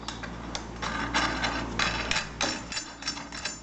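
An M16 nut is run down onto a washer, a close series of quick metallic ratcheting clicks in uneven bursts, with no talk.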